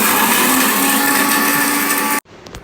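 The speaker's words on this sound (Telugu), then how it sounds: "వేసుకొని మెత్తగా గ్రైండ్ చేయాలి" A mixer grinder whirs loudly and steadily while finely grinding masala for mutton paya, then cuts off abruptly near the end, leaving faint clatter.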